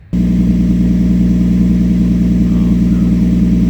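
A Ford car engine with an exhaust leak starts and runs steadily at idle, with a loud, rough, puttering low rumble throughout.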